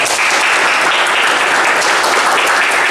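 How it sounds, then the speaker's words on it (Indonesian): Loud, dense applause from a group in a classroom lesson on automotive engineering, continuous clapping at full level for the whole stretch with no talk over it. "Tepuk tangan untuk kita semua."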